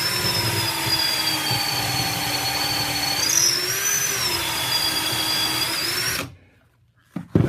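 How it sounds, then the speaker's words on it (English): Power drill boring pocket holes with a Kreg jig to join a rail and top in woodworking trim, a steady high whine for about six seconds that stops abruptly, followed by a brief clunk. "So I've got it set up and ready to drill."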